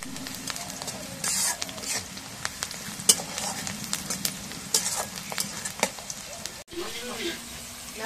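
Chopped onions and green chilies fry in oil in a home kitchen pan, giving a steady soft sizzle broken by occasional stirring scrapes and clinks, close by and moderately quiet.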